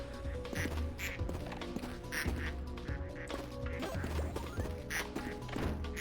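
Ducks quack repeatedly in a duck factory video game, a busy stream of cartoonish quacks mixed with thumps and clattering impacts over a steady tonal game background.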